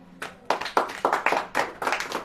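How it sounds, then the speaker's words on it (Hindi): A congregation at a Christian sermon claps in about eight distinct, loud bursts of hand claps at a steady rhythm, with no talking over them. "ताली बजाइए।"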